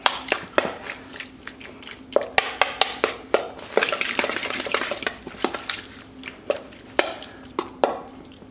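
A utensil stirring bacon fried rice with soy sauce and a sprinkle of cornstarch in a pan, giving close, irregular scraping clinks and taps with short pauses between strokes.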